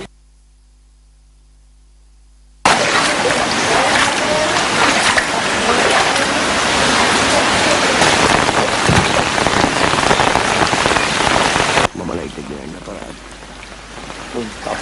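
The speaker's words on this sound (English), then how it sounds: "Heavy showers in Tangol inundated several homes in the Tahanchiwava area." Heavy rain showers pour down in the Tahanchiwava area of Tangol, a dense, loud hiss of rain that cuts in after a short silence, drums steadily for several seconds, then drops to a quieter wash.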